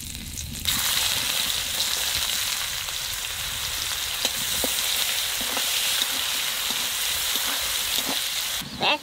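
Cumin seeds and bay leaves hit hot oil with a sudden loud sizzle that settles into a dense, steady frying hiss, close up, with faint stirring clicks and no voices.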